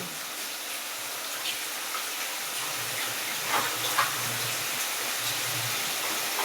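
Vegetables for a curry are rinsed under running water, giving a steady hissing stream with a few soft splashes and knocks close by.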